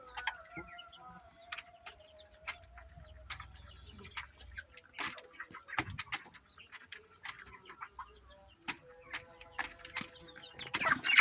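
Many broiler chickens about 35 days old, weighing around 2 to 2.5 kg, cluck and peep softly in an enclosed poultry house, scattered calls and clicks overlapping at a low, steady level.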